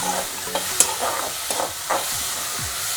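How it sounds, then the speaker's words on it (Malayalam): Onions sautéing in a pan for egg puff filling: a close, soft sizzle broken by short scraping stirs of a spoon at irregular intervals, with no talking. "അതിലേക്ക് ഉള്ളിയിട്ട് വഴറ്റുക"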